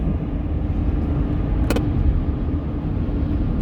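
Car interior drive through Pittsburgh passing over a river bridge, a steady loud engine and road rumble throughout with a brief higher clunk midway.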